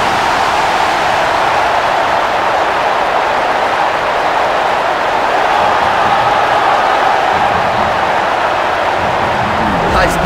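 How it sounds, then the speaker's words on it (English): Steady, loud stadium crowd roar after a goal in a FIFA 04 Premier League match with Manchester United, a broad continuous wash of cheering fans with no breaks. "The crowd really appreciated that one"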